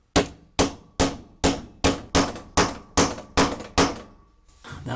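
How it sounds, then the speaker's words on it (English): A socket is used as a drift to tap a part into a Kenmore washing machine during a drum bearing and shaft seal repair. About nine sharp metallic hammer taps come close and loud at a steady rhythm. "I'm just going to tap that in gently"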